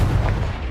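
Expelliarmus and Confringo spells cast in Hogwarts Legacy make a brief, dense thudding blast with low rumble and a faint bright crackle, packed into under a second.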